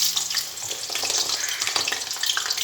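Banana pieces fry in hot mustard oil in a wok, giving a steady, close, bright sizzle with crackling bursts throughout and no talking.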